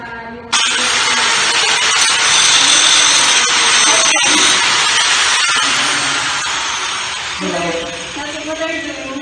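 An angle grinder grinds rusty scale off a flat steel bar in a welding shop, a loud, steady broadband whine that runs near-continuously after a sharp start, with a brief dip midway and shifting tone near the end.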